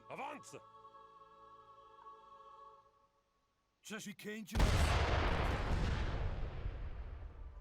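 Cannon fire in Age of Empires III Definitive Edition: after a stretch of game music and a brief voice, a loud booming blast hits and rolls into a long, dense rumbling roar of bombardment.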